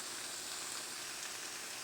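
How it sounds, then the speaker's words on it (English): Onion, bell pepper, garlic and minced mushrooms sauté in a pan for a Philly cheesesteak, making a soft, even, continuous sizzle heard alone at low volume. "you're just going to stick everything in and saute it for about 10 minutes or until your veggies are tender"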